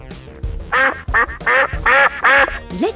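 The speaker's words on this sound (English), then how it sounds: "A mallard duck." A mallard duck quacks several times in quick succession, loud, nasal calls that rise and fall, close by with some low background rumble between them.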